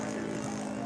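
A radio-controlled Cub model airplane drones steadily at a model aircraft fly-in, its propeller buzz constant and fairly loud throughout as it comes in.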